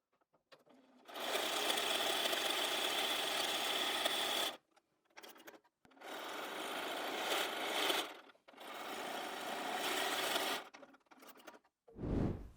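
Sewing machine stitching a seam through fabric backed with grid interfacing for an appliqué wall hanging, running in three long steady bursts separated by short pauses, loud and close with no talking.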